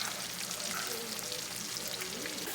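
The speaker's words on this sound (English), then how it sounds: "Look at that sizzle." Continuous crackling sizzle of food frying in a hot pan, close up and steady, with no talking.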